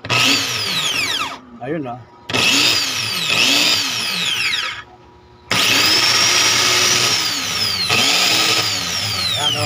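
A Bosch electric drill runs again after its carbon brushes were replaced, its loud, close motor whine revving up and winding down in several bursts separated by short pauses, and a voice briefly speaks during one pause.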